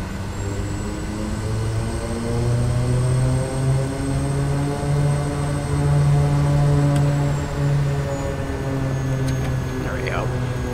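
Kodiak 100 propeller plane engine in Microsoft Flight Simulator, a loud, steady droning roar with strong tonal harmonics that swell slightly as power builds, close and continuous.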